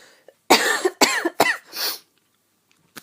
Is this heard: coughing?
yes